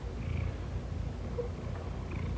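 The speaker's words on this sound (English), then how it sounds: "when he purrs, his whole body vibrates" A cat purrs steadily and close by, a low continuous rumble with no talking over it.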